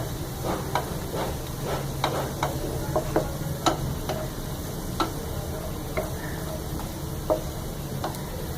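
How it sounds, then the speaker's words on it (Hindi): Whole chillies frying in oil for a kadhi tempering, a soft sizzling hiss dotted with sharp pops and occasional clicks of a spoon against the pan, close, with no voices. "फिर 2 मिनट बाद मैंने साबुत मिर्च शामिल कर दी, क्योंकि हमारी साबुत मिर्चें भी कुक होनी है"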